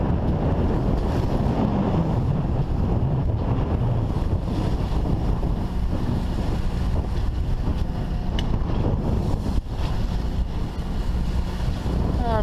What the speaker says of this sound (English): I'm guessing 2 to 4 foot waves right now.